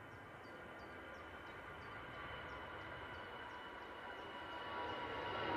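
An easyJet jet departing Manchester Airport for Belfast: a steady, broadband engine roar that swells slightly toward the end as the aircraft builds power, heard at a distance with no voices.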